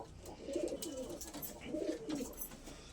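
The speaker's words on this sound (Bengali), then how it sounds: "এবার যেটা দেখাবো সেটা আমার সবথেকে পছন্দের পায়রা আমার ঘরের।" Pet pigeons in a home loft coo in soft, low, rolling bursts that come in two clear swells. Light background noise sits underneath, and nobody speaks.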